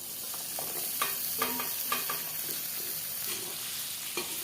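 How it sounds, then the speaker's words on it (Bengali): Potatoes and pointed gourd fry in hot oil, a continuous close sizzle broken by several sharp scraping stirs of a spatula against the pan. "পটলগুলোকে দিয়ে নিয়ে আমি এবার লাল লাল করে ভাজে নেব"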